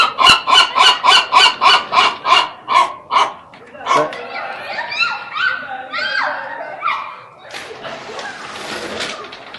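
A seagull being fed on a balcony gives a loud, rapid series of about ten raspy calls, then a jumble of squawks and honking cries up close.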